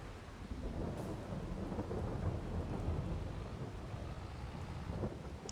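Rain and thunder in the Farming Simulator 22 video game make a steady wash of rainfall with a low rolling rumble throughout, at moderate level and with no talk.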